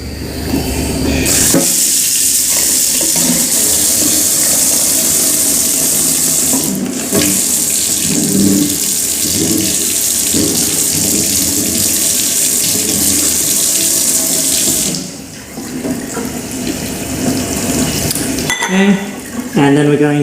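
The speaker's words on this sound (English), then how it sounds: "Then we're going to get some tap water." Tap water gushes steadily from a kitchen faucet into a sink, a loud continuous rush that briefly changes tone and dips near the end before surging again.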